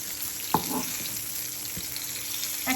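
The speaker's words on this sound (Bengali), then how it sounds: "তো আমি বেগুনটাকে খুব সুন্দর করে এপিট ওপিট ভেজে নিব।" Eggplant slices frying in oil in a pan for a Bengali achari begun dish: a soft continuous sizzle with a couple of brief clinks and stirring scrapes, no talking.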